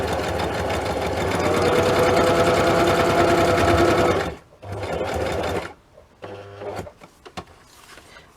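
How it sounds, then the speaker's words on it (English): Close and loud, a sewing machine stitches a junk-journal pocket made from a book page, humming steadily for about four seconds, then a shorter run and a few quick stops and clicks as the fabric is handled. "So I'm just going to sew that"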